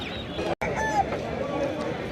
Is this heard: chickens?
yes